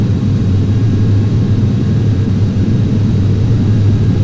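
Simulated Boeing 737-800 jet engines roaring steadily through a takeoff roll in the FSX flight simulator, a loud, continuous low-pitched rumble with no break.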